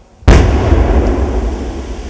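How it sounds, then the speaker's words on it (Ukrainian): A found landmine and tail section are destroyed by controlled detonation outside a city: one sudden loud blast after a brief quiet, followed by a long rumbling roar and echo that slowly fades. "Знайдено міну і хвостовик вивезли за місто і знищили шляхом підриву."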